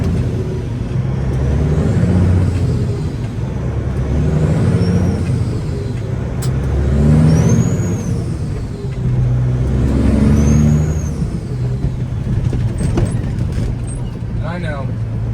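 A Kenworth W900 truck idles and rumbles steadily while backing into a tight spot in the snow, a low continuous engine drone with a brief air-brake hiss, and a person talking over it throughout.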